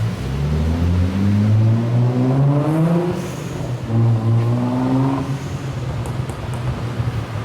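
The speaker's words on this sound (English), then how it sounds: "So there goes the silver car." A tuned silver car accelerates past, its engine rising through the revs and fading, then returning briefly with a few crackling pops as it comes off the throttle.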